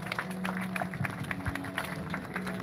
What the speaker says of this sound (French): Applaudissez très fort le Seigneur.